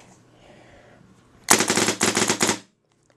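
A PM5 paintball marker fires a quick burst of several sharp, loud shots in rapid succession after a quiet lead-in, then falls silent.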